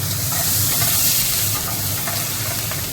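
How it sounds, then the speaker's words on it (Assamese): Chopped onions fry in hot oil for a hilsa fish curry, giving a steady, close sizzle and hiss with light stirring throughout. "এয়া এতিয়া মই তেলত পিঁয়াজখিনি দি দিম"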